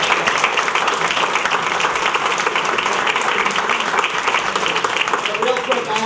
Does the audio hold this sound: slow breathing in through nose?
no